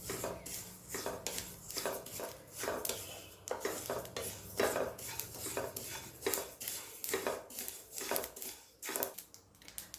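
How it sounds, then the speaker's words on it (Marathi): Sesame seeds roasting in a kadhai for til poli filling, stirred briskly with a spatula: steady scraping and knocking of utensil on pan with fine crackle underneath, close and continuous, no talk. "मस्त असा चटचट आवाज येईपर्यंत हे तीळ भाजून घ्यायचे आहेत"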